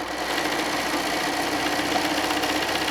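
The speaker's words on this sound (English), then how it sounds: "we're going to place that over the top, and we're going to stitch that" A sewing machine stitches a 4.5-inch strip across the top of a quilt block, giving a continuous close motor hum and rapid needle chatter with no pauses.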